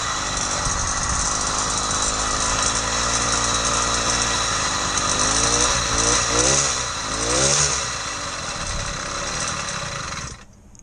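An 80cc engine kit fitted to a vintage Schwinn bicycle runs continuously with a loud, buzzing, rattly drone, its pitch wavering as the revs shift midway, before it cuts off near the end.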